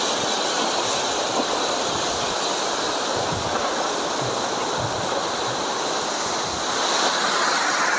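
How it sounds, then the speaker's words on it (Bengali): The Vasudhara waterfall throws a steady, roaring spray of falling water, a loud, continuous rush heard up close with no voices. "বিশাল ঝাপটা আসছে এই জলের"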